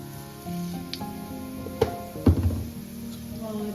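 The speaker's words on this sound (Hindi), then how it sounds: "इसमें डालूंगी मैं ज़ीरा" Cumin seeds sizzling in hot oil for jeera rice, a soft frying crackle under several clanks and knocks of utensils against the pan, fairly close.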